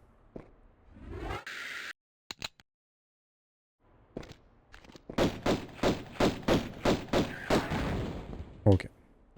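Magnum pistol shots from the Tomb Raider video game fire in a quick run of about eight sharp, evenly spaced bangs, preceded by a few scattered game sounds and silence.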